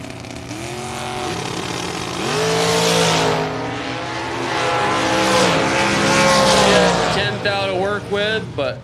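Shorty dragster race car at a drag strip bracket event, engine roaring loud and rising in pitch down the track while an announcer talks continuously over it.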